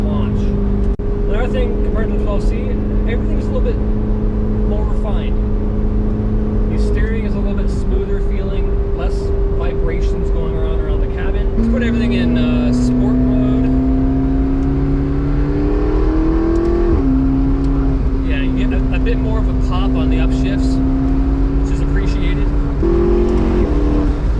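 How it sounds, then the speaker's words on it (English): A deep McLaren 650S Spider V8 engine hums steadily, its pitch climbing through gear changes as it accelerates, with people talking over it throughout. "It sounds like a nice deep V8."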